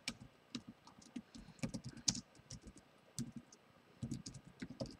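Password being typed on a computer keyboard: a steady run of soft, close key clicks in irregular bursts, with short pauses between groups of keystrokes and no talking.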